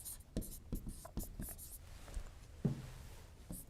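Chalk or marker writing on a board, with a series of short, close taps and strokes in an irregular rhythm and faint room noise between them.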